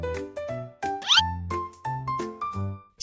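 A cat meows in a string of short, clear, tonal cries, about eight in quick succession, each sitting at a slightly different pitch, close and distinct with nothing else under them.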